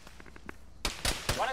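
Explosions of thrown frag grenades in a military video game: a few faint pops early on, then three loud, sharp blasts in quick succession, close and heavy.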